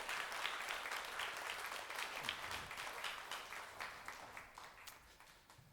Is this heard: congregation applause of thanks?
yes